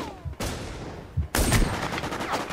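A shotgun fires in the video game War Inc: two loud, close blasts about a second apart, each with a long decaying echo and no voices over them.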